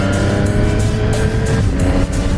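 A 2018 Triumph Street Triple RS 765 motorcycle with a quick shifter roars loudly and continuously at highway speed, its engine note rising and dipping briefly with each gear change.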